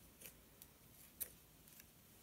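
Scissors snipping a crochet yarn tail on a serape lovey, a few faint, quick crisp clicks in an otherwise quiet room.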